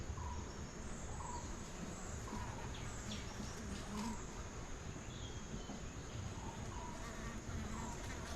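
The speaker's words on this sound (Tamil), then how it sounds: "தேனியெல்லாம் வந்து போகுது." Honeybees buzz around a bee box sheltered under a tin sheet, a dense, steady hum filling the air outdoors while faint bird calls sound in the distance.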